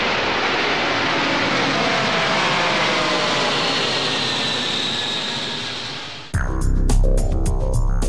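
An Antonov An-124 jet cargo aircraft roars past loudly, a broad rushing jet-engine wash that slowly fades, then is abruptly cut off by a different, choppy noise near the end.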